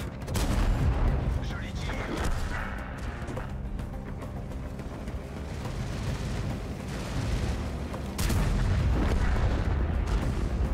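Tank guns fire in World of Tanks, heard as heavy booming blasts with rumbling engine and battle noise throughout, loudest at the start and again near the end, with a voice briefly audible.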